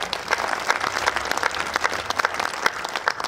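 Audience at a Hindi comedy poetry gathering claps together, sharp overlapping hand claps at close range that keep up throughout with a slightly uneven rhythm.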